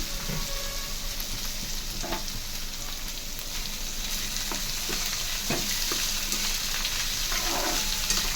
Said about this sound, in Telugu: ఇప్పుడైతే దొండకాయ ముక్కలు అయితే వేస్తున్నాను